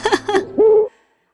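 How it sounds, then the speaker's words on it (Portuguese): A cartoon owl gives a short series of hoots: two quick syllables and then a longer sustained hoot, loud and close, which breaks off into silence. "Hop Hop, a coruja"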